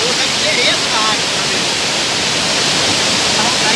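Salto Cavalcanti waterfall in Tomazina pours with a steady, full roar of rushing water, loud and close, filling the whole stretch without pause.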